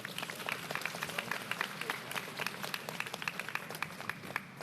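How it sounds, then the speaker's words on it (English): Sustained applause from a crowd at a mayoral event marking Lunar New Year, dense overlapping claps continuing steadily throughout at moderate distance. "Let's give a round of applause to all these advocates who work so hard."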